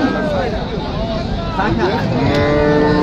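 A cow at a busy cattle market moos in a long, loud, drawn-out call, close by, with crowd chatter and people talking around it.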